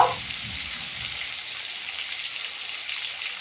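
Potatoes and onions fry in a pan with a steady, even sizzle that holds constant after a brief clatter at the start.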